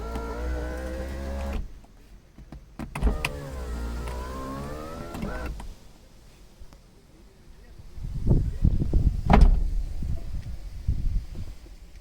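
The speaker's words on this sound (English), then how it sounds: "So this has power windows." A Maruti Suzuki Zen VXI's electric window motor whirs with a rising and falling hum, followed by rustling and knocks inside the vehicle.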